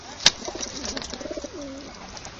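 Pigeons or doves cooing close by while being hand-fed, with a soft, rolling run of low coos after one sharp tap or peck near the start.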